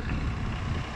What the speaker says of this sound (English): considering how windy it is.